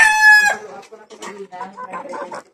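Rooster crowing loudly and close for about half a second at the start, followed by softer clucking and mixed chicken sounds from a flock of backyard poultry.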